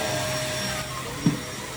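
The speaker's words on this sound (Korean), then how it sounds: "매트 위 청소기가 잘 안 가는데 아주 부드럽게 파워를 2단" A Catchwell CX PRO Magic Tower N cordless vacuum cleaner runs with a steady, close whirring motor drone and high whine, broken by one brief bump.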